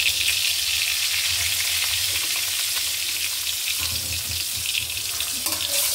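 An egg with a pinch of turmeric fries in a pan, giving a loud, dense, unbroken sizzle that crackles close and steady throughout with no voices.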